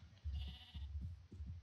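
Sheep in the video game Minecraft bleat three times in a row, short wavering calls close and clear, with no talking.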